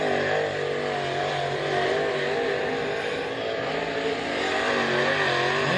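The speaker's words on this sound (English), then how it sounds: "Here comes one ripping it onto the racetrack." A race car, the Y3 driven by Jimmy York on a Capital chassis, roars onto the Wartburg Speedway track, its engine loud and sustained with rising and falling revs throughout.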